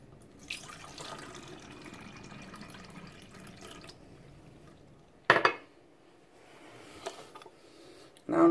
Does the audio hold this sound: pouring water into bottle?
yes